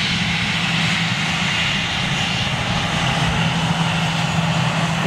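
An Air Transat airliner on approach to Gatwick passes overhead above Brighton, its engines a steady, loud, broadband roar holding evenly throughout with a faint low hum beneath.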